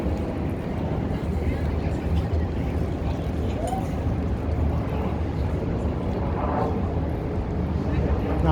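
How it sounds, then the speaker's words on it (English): An airplane passes overhead in downtown Chicago, a broad, steady roar blending with city street noise, with people talking throughout. "Now you hear airplanes on top."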